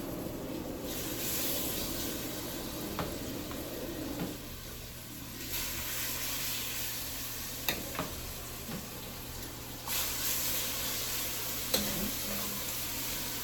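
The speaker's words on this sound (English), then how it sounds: "Yep, you hear that sizzle?" Steady sizzling from chicken frying in a pot with toasted curry, with occasional clinks and stirring noises over the continuous hiss.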